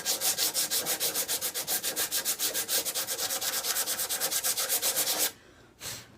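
Sandpaper scuffing a furniture finish before milk paint, heard as fast, steady back-and-forth rubbing strokes, close and even, then a pause and one last short stroke.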